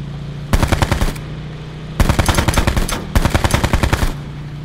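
Automatic gunfire in Call of Duty Black Ops 4, three loud rapid bursts of shots close up, each lasting about a second, with a steady engine-like hum underneath.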